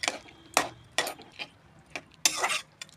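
A spoon clinks and scrapes inside a pot while fish head and potato curry is mixed with garam masala, several sharp metallic knocks at irregular intervals, close and fairly loud, no talking.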